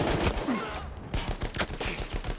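Rapid gunfire crackles in the World War I shooter Battlefield 1, a dense string of sharp shots and bursts fired in quick succession, loud and close.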